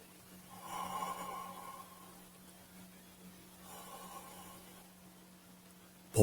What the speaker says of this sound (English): I already feel calmed down from just breathing slow.